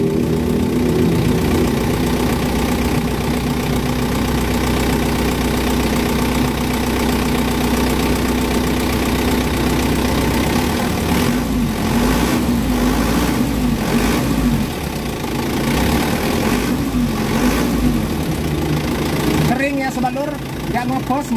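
An Isuzu Elf long truck's diesel engine idles steadily up close with a knocking, throbbing rumble that wavers slightly in the second half, while someone talks over it.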